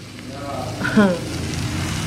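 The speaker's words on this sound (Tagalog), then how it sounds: "prito ako ng karne." Pork frying in a pan without oil, a steady crackle with a brief louder burst near the middle; a voice murmurs faintly.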